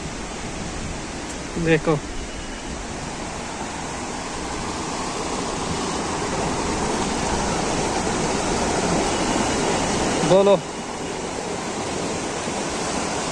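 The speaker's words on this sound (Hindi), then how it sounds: "जो ये पानी है ना, ये इस पत्थर के नीचे से आता है, इसको बोलते हैं आरिपल नाग।" Spring water gushes out from beneath a stone at Aripal Naag, a famous spring in Tral, Pulwama, making a steady broadband rush that runs through the whole stretch, with two brief bursts of speech rising over it.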